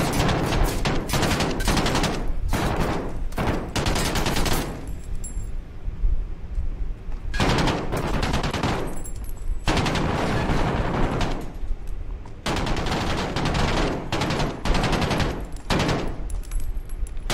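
Gunfire in Call of Duty Modern Warfare comes in loud, dense automatic bursts, several clusters of rapid shots separated by brief quieter gaps, close and dominant throughout.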